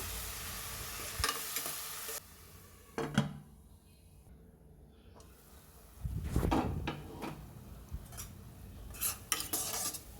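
Onion paste cooking in a pan, with a soft sizzle that swells at the start and again toward the end, broken by clinks and clatter of utensils and a lid, with a quiet lull in between.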